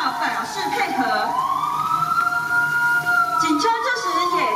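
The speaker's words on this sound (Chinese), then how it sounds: "警车这时也到达现场" Police car siren arriving at an industrial plant gate during an air-pollution emergency response drill, a rising and steady wail sounding continuously over background voices and crowd noise.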